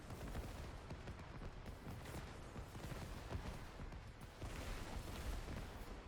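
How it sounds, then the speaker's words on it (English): A Diablo IV Druid's lightning storm spell crackles and pops in dense, continuous bursts like distant fireworks, loud and unbroken for several seconds. "The lightning storm sounds like freaking,"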